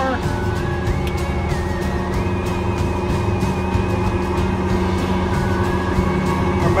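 A diesel vehicle steered by GPS autosteer drives along with a steady, loud engine drone and a faint rising and falling whine from inside the cab.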